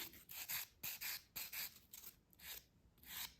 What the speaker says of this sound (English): I smooth out the nail, making sure that all the product is removed and that's got a smooth finish